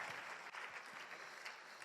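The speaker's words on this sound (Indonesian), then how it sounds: "Wah tepuk tangan buat Tiansi One Vision" An audience at a business seminar claps together, a steady dense patter of applause that stays even throughout, faint and somewhat distant.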